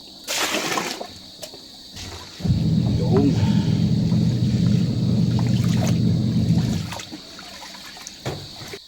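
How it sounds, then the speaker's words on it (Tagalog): Corn kernels being washed in water before cooking corn wine: a steady sloshing, trickling wash of water runs for several seconds, close and fairly loud, with brief splashes before and after. "Gaya ng dati, huhugasan muna natin bago lulutuin."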